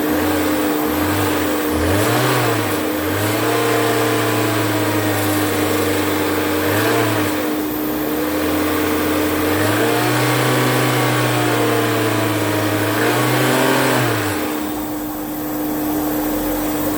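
A car engine idles steadily after its dead battery was revived with EDTA, the low hum rising and falling through two gentle revs, close and loud with no talk.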